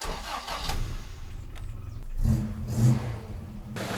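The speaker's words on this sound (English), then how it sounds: "you need to switch the car on and have it at idle" A car engine rumbles at idle, close by, with a couple of brief rises in revs before settling back to a low, steady hum.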